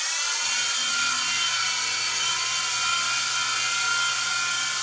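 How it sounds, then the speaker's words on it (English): A small Protocol Skyline G-Series 3-channel RC helicopter with gyro flies on a fresh battery, giving a steady, loud high-pitched electric motor whine and rotor buzz that holds constant throughout. "Let's see how it's going to fly with the new battery."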